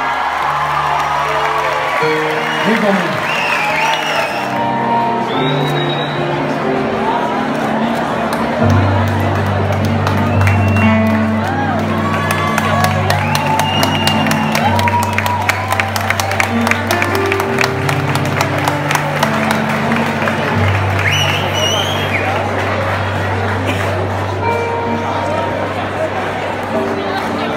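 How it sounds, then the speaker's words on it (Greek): A television studio audience at a Greek show applauds and cheers loudly as a guest is welcomed, with whoops and crowd noise over music and a host speaking throughout. "θέλω να δώσετε το πιο θερμό σας και το πιο καλό σας χειροκρότημα"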